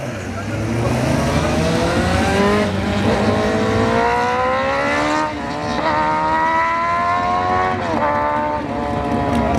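A Honda CBR 1000 motorcycle makes a loud drag-strip run at a test-and-tune event, its engine screaming upward through repeated gear changes over several seconds, with crowd noise and talk underneath.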